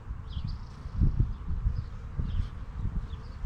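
Honey bees hum and buzz around an opened beehive, a low steady drone close by with faint rustling and no talking.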